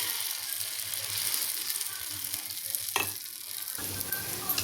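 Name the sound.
kara paniyaram batter frying in an oiled paniyaram pan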